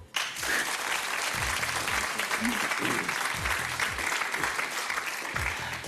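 Studio audience applause on a French television game show, starting abruptly and staying loud and dense for several seconds, with pulsing music and faint voices mixed underneath.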